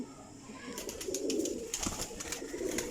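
Large young flying pigeons coo in soft repeated throaty notes, close and moderately quiet, against light background noise with some faint clicks.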